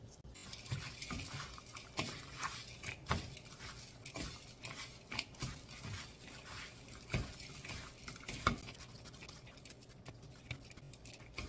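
Seasoned wild aster greens (namul) tossed by hand with sesame oil, garlic, salt and sesame salt, giving soft, moist patting and squishing in a steady irregular rhythm, close and quiet, with no talking.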